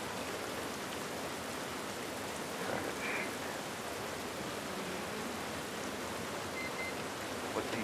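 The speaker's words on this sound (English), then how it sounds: "the rain falling off their faces" Steady rain falls in the game The Last of Us Part I, a soft, even hiss of drops with no voices.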